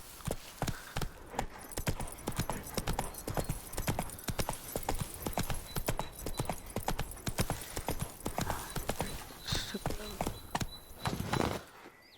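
Horse hooves beat in a fast, regular clip-clop as a mount gallops across ground in The Witcher 3, close and steady for about twelve seconds, with a brief snort or whinny late and a voice speaking faintly underneath.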